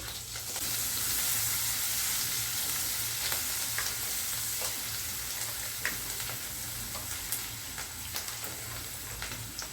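Chopped garlic, ginger, green chili and onion fry in oil in a pan for restaurant-style chilli chicken, giving a steady close sizzle with occasional light stirring clicks and no talking.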